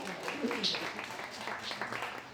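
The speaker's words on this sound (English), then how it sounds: "Give yourself a round of applause." Audience members at a Creative Mornings talk in Boulder applaud, and their brief, dense clapping mixes with scattered voices.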